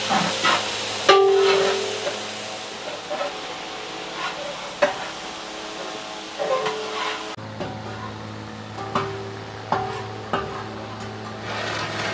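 A large pot of salted chicken curry with onions being stirred, with a steady low sizzle and a handful of scraping strokes at irregular intervals, close and moderately loud.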